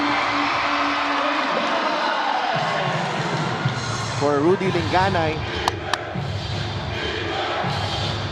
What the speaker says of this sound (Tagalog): First basket pa lang at sigaw talaga ang crowd dito sa Batangas.